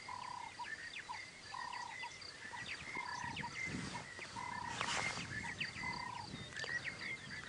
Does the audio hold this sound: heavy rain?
no